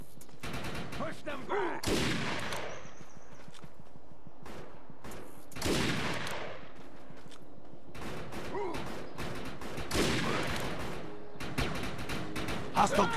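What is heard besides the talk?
gunfire from a firefight in the video game Defiance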